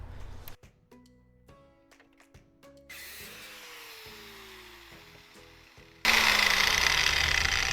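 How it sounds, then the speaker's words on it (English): A power tool cuts material during an AEV snorkel install on a Jeep fitted with a Gobi roof rack, starting in short bursts, then running steadily and finally surging into a loud, harsh high-speed cut near the end. "So first I'm gonna cut it here."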